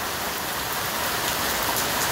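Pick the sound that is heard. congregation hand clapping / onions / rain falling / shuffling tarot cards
rain falling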